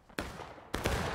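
Rifle fire during a field training counterattack by rocks and a stone wall: two sharp, loud shots about half a second apart, each ringing out with a short echoing tail.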